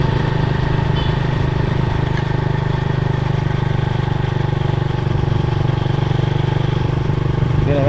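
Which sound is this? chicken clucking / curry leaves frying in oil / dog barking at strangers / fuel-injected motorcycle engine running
fuel-injected motorcycle engine running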